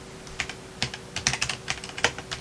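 Quick, irregular keystrokes on a computer keyboard as a command is typed at a PC, close and crisp over a faint steady hum, with no voices.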